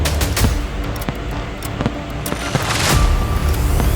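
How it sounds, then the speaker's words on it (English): Fireworks bursting outdoors, a rapid series of sharp cracks and booms, some close and loud, others echoing, over a steady rumble of crackle throughout. "Hey, those are nice fireworks."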